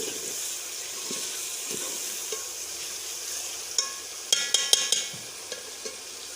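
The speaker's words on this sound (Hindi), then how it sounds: "और हरी मिर्च डालेंगे इसमें और अच्छी तरह से मिक्स करके पका लेंगे इसको।" Tomatoes and green chilies cooking with bottle gourd in a pot, a soft steady sizzle with quiet stirring, then a cluster of sharp metallic spoon taps against the rim.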